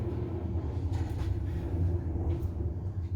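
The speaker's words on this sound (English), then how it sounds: "maybe you can hear an attack bomber flying right over my place right now" A low, steady rumble of an attack bomber passing overhead near a major airbase, a distant droning roar that holds at moderate loudness throughout without any talk.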